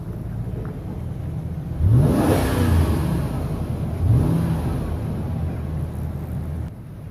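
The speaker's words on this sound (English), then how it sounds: "See that revving?" A Toyota Prius's engine revs up twice in close succession, each rise surging loudly over a steady idle hum before settling back, with no talking.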